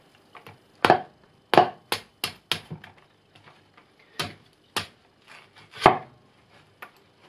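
A machete chops into a coconut in a series of sharp, close, hard knocks with irregular pauses between them, clear and alone.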